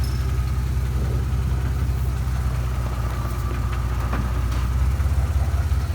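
A military Jeep engine runs loud and steady at a low idle while the vehicle swings around on a hillside track. The rough, throbbing rumble fills the whole stretch without pause, and no voices are heard.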